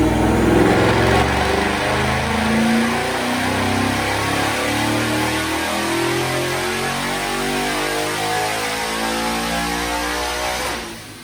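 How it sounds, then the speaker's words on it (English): A 2017 Mustang GT fitted with a Paxton Stage 1 supercharger making a dyno pull: a loud, continuous engine roar climbing steadily in pitch over about ten seconds, then cutting off abruptly at the end. "Let's make this dyno pull."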